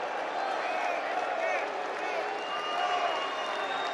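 Dense rally crowd at a political event in Cedar Rapids, Iowa, filling the space with steady applause and cheering, a loud, continuous wash of clapping and voices with no single speaker standing out.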